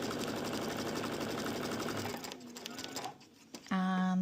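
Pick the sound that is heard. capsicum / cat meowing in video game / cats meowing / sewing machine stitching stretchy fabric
sewing machine stitching stretchy fabric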